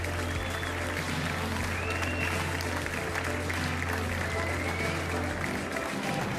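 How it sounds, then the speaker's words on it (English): Steady, dense applause fills a large indoor arena at an international carriage-driving World Cup competition in Lyon, sustained without pause over a constant low hum, with a voice faintly mixed in. "N'arrêtez pas vos applaudissements"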